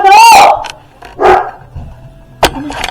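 Small dog barking and yipping in a house, a few sharp close barks in quick bursts separated by short pauses, loud against a quiet room.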